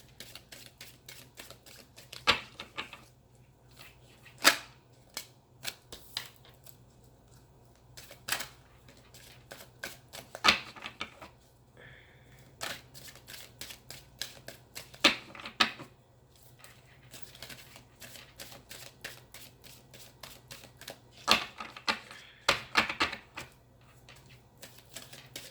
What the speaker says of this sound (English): Cards are just flying everywhere today.